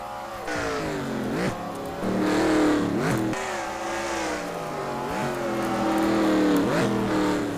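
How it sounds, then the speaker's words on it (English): Ford V8 Pro Series race cars circuit Ruapuna Park, their loud V8 engines roaring and shifting through repeated rising revs as they pass close by, continuous and unbroken with no talk. "The more these cars go on, the more Seth Cole pulls away"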